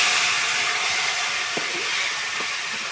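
Taro leaves dropped into hot oil already fried with onion, garlic, cumin and spices, giving a steady broadband sizzle that holds evenly throughout, loud and close with a couple of faint clinks.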